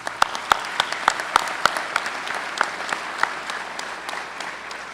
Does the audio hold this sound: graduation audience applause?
yes